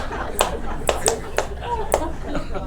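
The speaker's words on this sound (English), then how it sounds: "One person is applauding." A single person applauding at a law school talk, a handful of sharp, slightly irregular claps spaced about half a second apart over low room noise.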